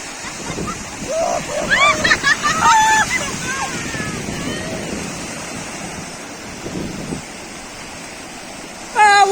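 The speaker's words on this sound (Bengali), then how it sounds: "বিশাল সমুদ্রে ঢেউ পড়ছে" Sea waves break on the beach at Gangasagar, heard as a continuous rushing surf with wind buffeting the microphone, while people talk and call out nearby over the roar.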